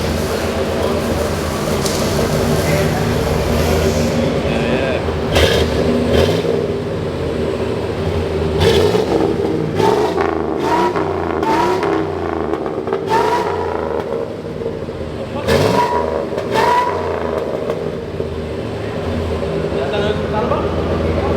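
Truck engine revving through a newly installed muffler: a deep, rumbling exhaust drone that rises and falls in several throttle blips, close and loud, with people talking over it.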